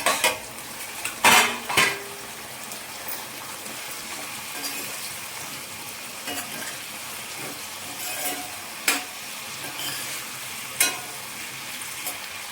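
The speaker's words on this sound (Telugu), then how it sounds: "మధ్యలో ఒకసారి కదుపుకుంటా ఈ పచ్చిమిర్చిని టమాటాని మగ్గనివ్వాలండి." A utensil stirs tomatoes and green chillies cooking in oil in a pan, giving a few sharp metallic clinks and scrapes over a faint sizzle.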